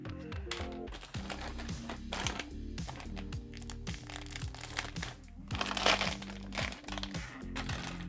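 Crinkly plastic rustles and crackles as a small bag holding Millennium Falcon model parts is opened, a dense, close, continuous crunching with sharp snaps.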